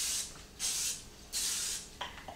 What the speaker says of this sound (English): spray the inside of your crock pot and the sides with some cooking spray